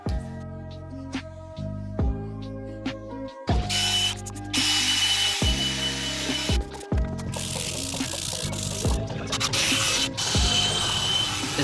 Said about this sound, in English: use a brush drill attachment to clean up as much as I can